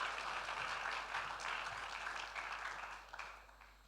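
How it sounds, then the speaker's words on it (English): Audience applause for John, a speaker at a morning talk on God as our Dad, steady and fairly faint, tapering off toward the end with a few last claps. "Would you give John a Kruger kind of level round of applause for it?"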